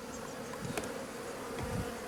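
Honeybees buzzing around a hive just after swarming form a steady, close drone, with individual bees swelling louder as they pass near.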